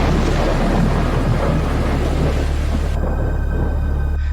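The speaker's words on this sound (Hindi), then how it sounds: "बिजली कड़की, एक जोर का पत्थर जैसे आवाज आई।" A deep, continuous rumble of thunder rolls through heavy rain, loud and sustained, fading slightly toward the end.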